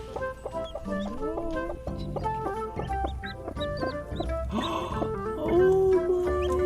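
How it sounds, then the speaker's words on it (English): Newly hatched chicks peep continuously, a busy overlapping chorus of bright, close chirps with some rising and wavering calls. "This week we had a lot of chicks hatch."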